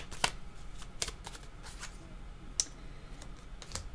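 Playing cards are shuffled and drawn during a tarot-style reading, giving a few brief, sharp riffling snaps spaced over several seconds against a quiet room, with no voices.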